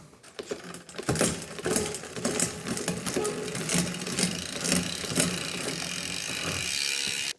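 A SRAM Eagle AXS electronic bicycle derailleur shifts through the gears, giving a rapid sequence of close mechanical clicks and ratcheting chain rattles that settle into a steady whir of the spinning drivetrain.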